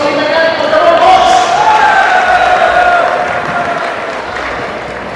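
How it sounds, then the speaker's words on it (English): A college crowd at an engineering event claps and cheers for Team Mechanical, a loud, dense burst of applause with shouts that slowly eases off. "So big round of applause for Team Mechanical."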